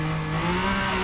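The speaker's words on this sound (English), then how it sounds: "Rolling four wheel burnout." Tires squeal loudly and steadily on a 887-horsepower car doing a rolling four-wheel burnout in the Assetto Corsa racing game, a sustained shriek over the roaring engine.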